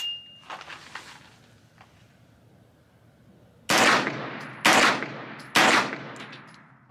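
A rifle fitted with a Taccom short-stroke bolt on an FM-9 lower fires three loud, sharp shots about a second apart, each with a brief ringing decay, after a few soft clicks and handling noises.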